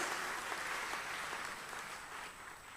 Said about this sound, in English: another round of applause to all our top performers